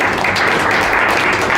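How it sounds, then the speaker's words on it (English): Audience at a corporate talk applauding, a dense, loud wash of many hands clapping continuously. "please do give her a round of applause"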